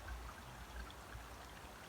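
Water from a lined backyard pond waterfall trickles over the edge, a soft, steady splashing wash with faint drips, quiet and continuous.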